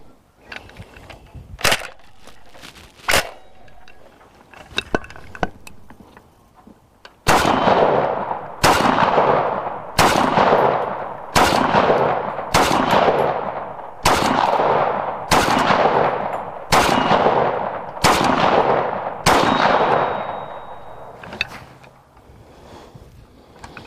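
An FG42 Type I rifle fires semi-automatic at an outdoor range: a couple of scattered shots, then about a dozen loud, evenly spaced cracks with ringing decay, close by and with no talk.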